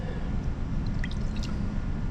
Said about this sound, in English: we're going to pour that back into our beaker